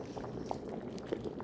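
Jamaican-style red peas soup simmering in a pot, a low steady bubbling with a couple of soft pops, quiet and close throughout.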